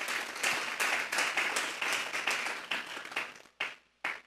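A church congregation claps in a lively, rhythmic pattern of regular beats that slows and breaks into a few final separate claps before stopping.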